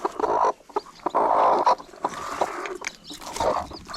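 Newly hatching chicks under naturally brooding hens give off bursts of soft, close peeping and clucking, overlapping and irregular, with brief quiet gaps between calls.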